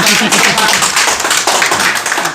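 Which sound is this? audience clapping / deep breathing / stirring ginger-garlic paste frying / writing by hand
audience clapping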